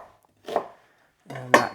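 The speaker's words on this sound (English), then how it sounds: "I'll just give that a rough chop so it doesn't get stuck on top of the blades" A knife roughly chopping vegetables on a board during meal prep, with two distinct close chops separated by a pause and no talking.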